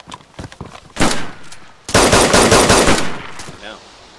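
AK rifle gunfire in the video game DayZ: a few quick scattered shots, then a loud sustained burst of rapid fire lasting about a second, with faint voices in the background.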